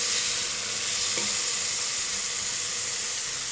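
Onion fries in oil in a pan for farofa, giving a steady close sizzle that holds level throughout with only a faint knock or two of the pan, and nobody speaks.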